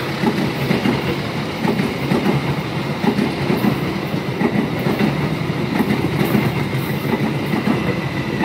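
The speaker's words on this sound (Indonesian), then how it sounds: "Nanti kereta api Taksaka akan melintas di jalur yang ini nih teman-teman, dari arah sana." Taksaka passenger train passing close by on the railway track, a loud continuous rumble with rhythmic clickety-clack of wheels over rail joints throughout.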